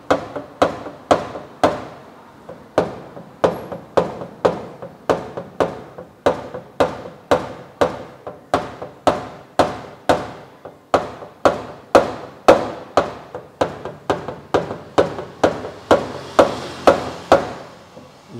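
A rubber mallet strikes a dented car body panel in a long, steady series of about thirty-five crisp, evenly spaced knocks, each ringing briefly before the next.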